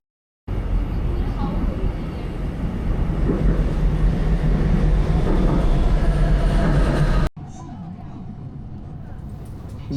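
A Shanghai metro train rumbles loudly through a station, a broad steady roar that swells and then cuts off, followed by quieter station ambience.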